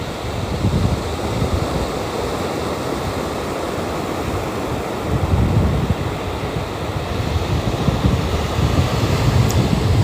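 Ocean waves break and wash continuously along a beach, a dense roaring surf close to the microphone with gusts of wind buffeting, no voices.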